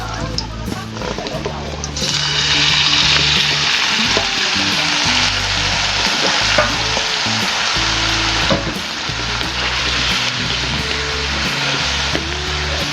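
Marinated chicken for adobong bisaya drops into a hot pan after a quiet start, bursting into a loud, continuous crackling sizzle with occasional stirring knocks.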